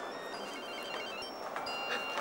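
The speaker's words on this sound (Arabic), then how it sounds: "موبايلك بيرن" A mobile phone rings in a room, a faint repeating electronic ringtone with a steady tonal pattern heard at a slight distance against quiet room sound.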